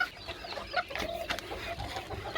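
Roosters in a poultry yard cluck and chatter while being fed onion salad, an uneven stream of short clucks and squawks at moderate volume, close, with no talking over them.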